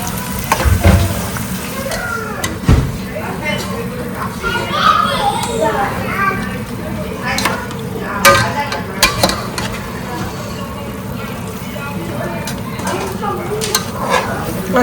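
Onions fry to a golden brown for biryani with a continuous loud sizzle and stirring clatter from the pan, while children play and talk nearby.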